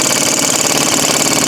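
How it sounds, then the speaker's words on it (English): An air impact gun rattles continuously and loudly, running a nut onto a rear shock of a 2001 Buick Park Avenue, with a dense, rapid hammering buzz close by. "We're just going to run it on with a gun."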